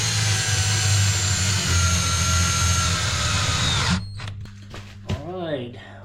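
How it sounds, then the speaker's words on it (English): A power drill whines steadily at high speed for several seconds drilling a pilot hole while fabricating a John Deere side seat, then stops, followed by short clicks, a brief spoken phrase, and the motor winding down. "Pre-drill that hole"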